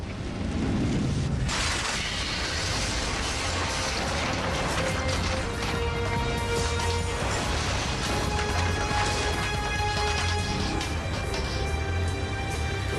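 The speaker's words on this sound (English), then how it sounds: "With the reinforced glass windows smashed, the wind tears through the interior" A super typhoon drives a dense, continuous roar of wind and crashing debris as reinforced glass windows smash, with a heavy impact near the start and a constant loud, rumbling wash throughout.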